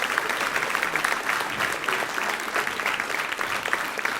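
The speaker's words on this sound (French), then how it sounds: "Oui, on peut l'applaudir." Sustained audience applause at a harmony band's concert show, dense and steady clapping from a full hall lasting throughout.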